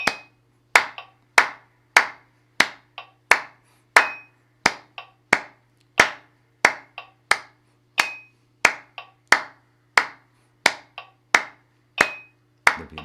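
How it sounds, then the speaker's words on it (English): A long run of crisp hand claps moves in steady triplets against a metronome, the strong claps alternating with softer in-between ticks, close and dry. "that's clapping 6 times when the metronome's doing 4 beats"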